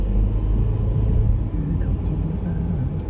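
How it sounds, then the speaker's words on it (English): Road traffic heard from inside a moving vehicle, a loud continuous low rumble of engines and tires with steady broadband road noise and faint higher clicks near the end. "The traffic is slowly picking up"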